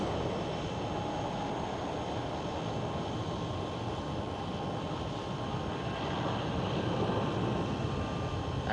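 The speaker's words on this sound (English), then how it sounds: "KLM Asia 777 taking off right now." A KLM Asia Boeing 777 takes off at Amsterdam Schiphol, a continuous distant engine roar that holds steady and swells slightly toward the end.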